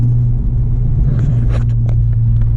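Acura RSX-S with new motor mounts pulling away under throttle, a loud steady low engine drone and rumble from inside the cabin, with a few faint clicks and rattles over it.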